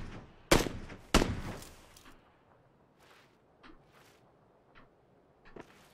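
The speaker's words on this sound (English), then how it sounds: "Oh yeah, he's throwing a nade in." Two sharp, close, loud blasts go off in quick succession in PUBG, each with a short rumbling decay. Faint scattered thuds and pops follow over a quiet background.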